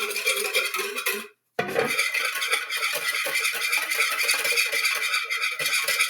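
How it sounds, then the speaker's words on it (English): A whisk beats a distilled vinegar dressing in a bowl, a loud rapid metallic rattle against the sides that cuts off briefly after a second and then starts again at the same steady pace. "I'm going to whisk it, and it's going to be loud."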